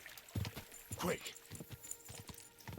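Rhythmic hoof clip-clops of a horse trotting in Kingdom Come: Deliverance 2, fairly faint, mixed with other game sounds and a voice speaking over it.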